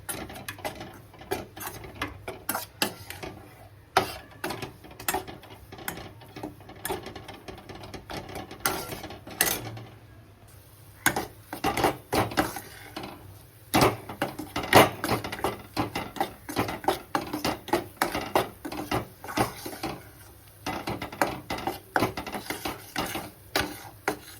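Wheat flour is roasted on low heat and stirred in a pan for sheera, producing a steady run of close, sharp scraping clacks and knocks in an irregular rhythm, with brief lulls between flurries.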